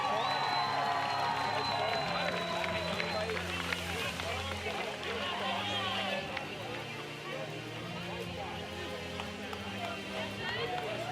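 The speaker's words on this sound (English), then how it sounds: "ladies and gentlemen, let's give them a big round of applause" A large crowd applauds and cheers at a BMX racing world championship award ceremony, with broad steady noise over music and an announcer's voice throughout.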